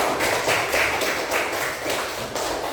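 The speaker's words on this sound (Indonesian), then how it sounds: "Tepuk tangan untuk kita semua" Classroom of fifth-grade pupils clapping in rhythmic bursts, a few loud beats spaced about half a second apart, close and roomy with no talking over them.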